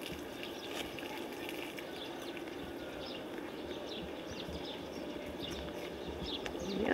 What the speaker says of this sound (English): the noise of water